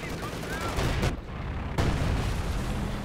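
Artillery fire in the Company of Heroes 2 video game, with dense booming and crackling battle noise, a sharp burst near the middle and a steady roar of gunfire throughout, likely under faint commentary.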